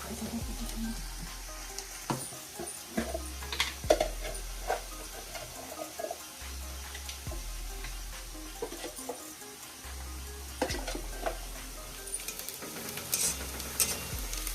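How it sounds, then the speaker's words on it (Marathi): Chopped onion frying in a pan for a raw jackfruit bhaji gives a continuous low sizzle, punctuated by repeated scraping and stirring knocks from a spatula, with a faint background hum and no talk. "कांदा परतायला लागला"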